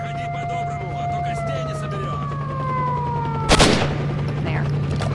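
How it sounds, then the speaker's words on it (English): A wailing siren in STALKER: Shadow of Chornobyl sweeps up and down in loud, gliding tones, with a sharp burst of gunfire breaking through near the end over a steady low hum. "I'll turn off the siren if it's so annoying for you guys."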